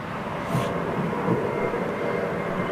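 An Airbus A320 airliner gives a steady, fairly loud broadband engine roar that holds throughout with little change, heard at an airport on a winter day.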